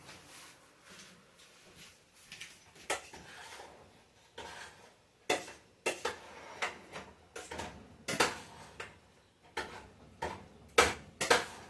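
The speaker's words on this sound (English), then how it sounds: "Let me just quickly stir those again." Elderberries are stirred in a pot, giving a string of irregular clinks, taps and scrapes, some sharp and close, spaced out over several seconds.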